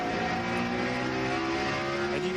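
A NASCAR Winston Cup race car at Martinsville Speedway in 2001 accelerates, its engine a steady high whining roar, loud and sustained, with pitch rising slightly toward the end.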